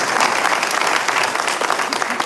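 Steady, dense applause from an audience at a State of the North County civic event, loud and continuous throughout with many overlapping claps and no break.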